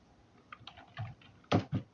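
Keys clack on a computer keyboard during spreadsheet data entry: a handful of soft taps followed by two louder, close keystrokes.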